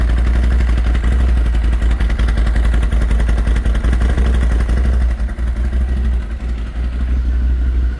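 The engine of an Odes Pathcross 650 utility vehicle idles loudly and steadily nearby, with a rapid chugging rattle that continues throughout and dips slightly near the end.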